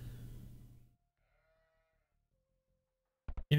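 Sheep bleat in Age of Empires, a brief wavering animal call fading out at the start, then after near silence a couple of short sharp bleats close at the end.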